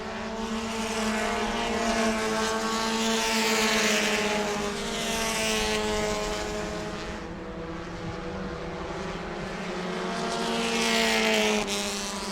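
Race cars roar around the New Smyrna track during a heat race, several engines blending into a loud continuous drone with rising and falling pitch as the pack passes down the back straightaway.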